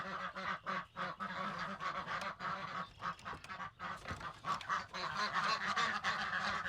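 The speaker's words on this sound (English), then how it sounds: "we are going to let the ducks and the geese out because they're anxious to get their breakfast." Geese honk and ducks quack together in a dense, continuous morning chorus close by, as the flock waits eagerly to be let out for breakfast.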